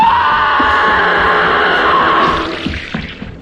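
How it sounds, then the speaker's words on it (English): A female character shrieks in the horror game Lights Camera Slaughter, one long, loud, sustained scream that tapers off into scattered thuds and movement noise. "I sound like a female screaming."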